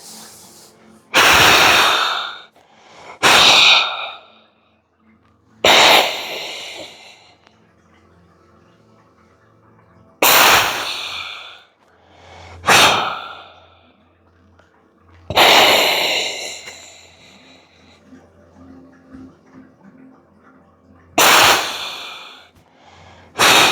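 Forceful breaths go in and out through an O2 Trainer breathing device held in the mouth, heard as loud, close rasping bursts spaced a few seconds apart with quiet pauses between them.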